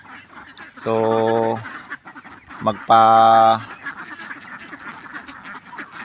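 Farm ducks quacking in two loud bursts of harsh, buzzy calls, close by, with someone talking before and after them.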